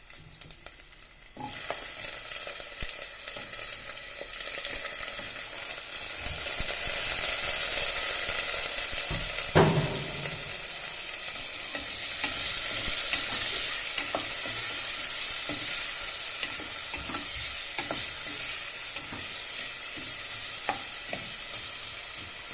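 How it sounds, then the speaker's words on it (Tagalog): Ginger, onion, garlic, tomato and chili sauté in a hot pan with a steady, close sizzle that swells midway, broken by occasional scrapes and stirring clicks and one sharp knock near the middle. "Ngayon guys, magigisa na tayo mga guys."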